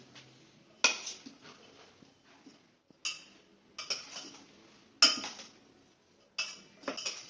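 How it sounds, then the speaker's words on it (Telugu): A spoon clinks and scrapes against a bowl while paneer and corn salad is tossed together, with several separate bursts of bright metallic clatter and quiet pauses between them. "ఇప్పుడు దీన్ని మిక్స్ చేద్దాం"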